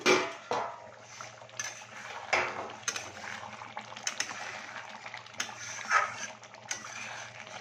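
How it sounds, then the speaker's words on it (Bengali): A metal lid lifted off a cooking pot of boiled pumpkin and potato, giving a few scattered clanks and scrapes over a low background hum, with no talking. "এবারে আমি ঢাকনাটা বের করে দিচ্ছি।"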